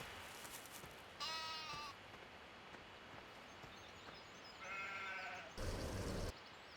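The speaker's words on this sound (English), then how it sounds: "Just hop the fence and walk through the sheep." Sheep in a mixed flock of brown, black and white, black-faced and white-faced animals bleat in a Farming Simulator 17 game on the Sosnovka map, three separate wavering calls spaced apart over quiet ambience, fairly close and clear.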